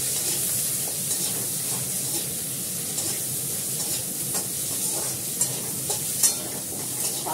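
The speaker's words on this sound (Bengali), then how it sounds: "পেঁয়াজটা আর আলুটা দিয়ে দিলাম, একটু নাড়াচাড়া করে" Onion and potato fry in a hot pan with a steady, dense sizzle close by, while frequent scraping stirs and small pops cut through it with no voices.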